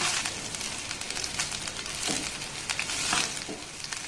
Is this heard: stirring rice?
yes